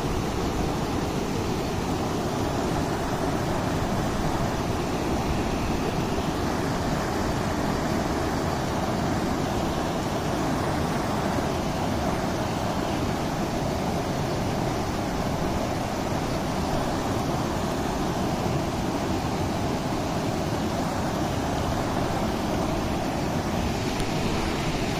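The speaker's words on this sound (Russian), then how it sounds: "Действительно, здесь бурная такая река." A rushing mountain river in the Carpathians roars as a loud, unbroken wash of turbulent water, close and constant with no voices over it.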